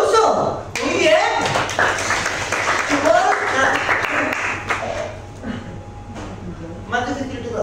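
Children clapping in applause during a playful performance with a puppet character, a bright, scattered patter of small hands mixed with lively voices and talk in the room.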